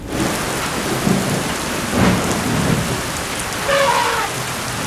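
Thunderstorm over the Serengeti during the short December-to-March rains: steady loud downpour on the ground with several low thunder rumbles rolling through, fairly close and continuous.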